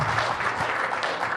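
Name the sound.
audience applause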